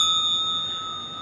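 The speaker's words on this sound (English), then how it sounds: "these make great bells. They all have a slightly different tone" Small bells used as Druid altar tools give a pure, sustained ring that slowly fades, with steady high partials and no talk over it.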